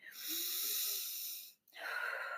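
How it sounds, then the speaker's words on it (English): A long, slow, deep inhale through the nose, a brief pause, then a steady exhale, close and fairly loud in a quiet room. "deep breath."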